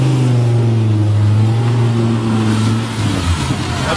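A car engine revs hard as the vehicle pulls away, a loud rising drone close by that fades and roughens toward the end with no talking over it.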